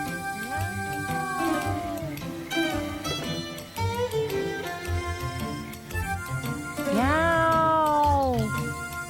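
A voice imitates a cat's meow over background music in an animated series, with drawn-out, bending tones rising and falling and a louder meow near the end.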